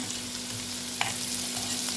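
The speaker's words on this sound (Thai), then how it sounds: "เอา หมูมาหั่นเป็นชิ้นเป็นชิ้นแล้วก็เอามาผัดกับเครื่องแกง" Pork pieces stir-fried with curry paste of pepper, dried chili, shallot and garlic sizzle steadily, with a brief scrape of stirring over a low background hum.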